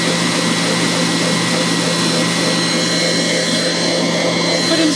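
An Instant Pot stand mixer whipping cream, a continuous loud motor whir with a steady hum, close and unbroken for the whole stretch.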